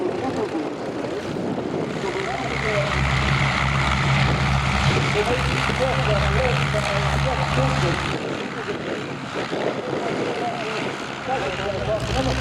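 Propeller aerobatic planes fly a display at the Shoreham Airshow, their engines making a steady droning hum from a distance. A commentator talks over the engine noise the whole way through.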